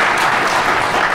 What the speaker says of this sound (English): thanks for the claps there